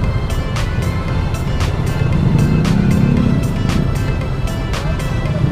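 Road traffic on a busy Saturday market day in Bacoor Zapote, with a steady low engine rumble from nearby vehicles and a few repeated sharp clicks or ticks over the continuous drone.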